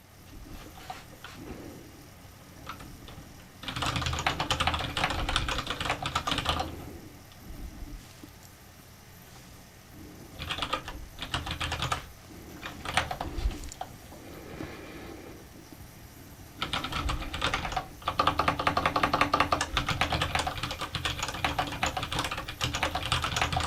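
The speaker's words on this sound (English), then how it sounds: "My keyboard's on." A computer keyboard is typed on in irregular bursts of quick, close clicking, with short pauses between runs and a denser flurry near the end.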